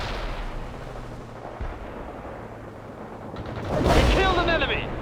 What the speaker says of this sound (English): Light artillery barrage, fire at force.